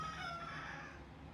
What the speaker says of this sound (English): Junior is our second rooster